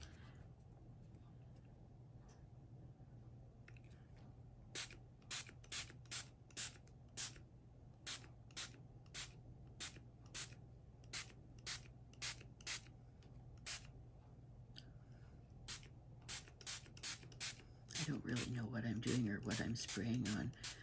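Aerosol can of mica powder spray sprayed onto junk journal background pages, a long run of short sharp hisses in irregular bursts, with louder continuous spraying near the end over a steady low hum.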